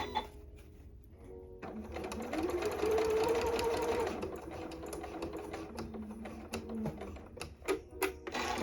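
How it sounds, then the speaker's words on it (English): A sewing machine stitches a diagonal seam on an elastic-waist skirt, running in a steady whir for a couple of seconds, then slowing into shorter, quieter bursts of stitching with clicks toward the end. "I'm going to do one of those diagonals"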